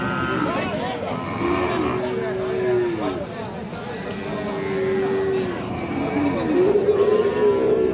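Friesian cross-breed bull calf, about one year old, at a cattle market, giving three or four drawn-out moos in a row, close and fairly loud, under steady crowd chatter and market bustle.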